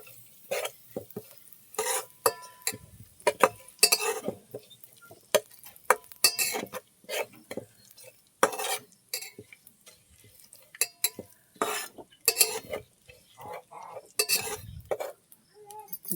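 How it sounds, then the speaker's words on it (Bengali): Potato curry with spices and dry chilli paste stirred in a pan, a long run of irregular metal spoon scrapes and knocks against the pan, each burst loud and close with quiet gaps between, no voices. "এটাকে ভালো করে নেড়ে নেব।"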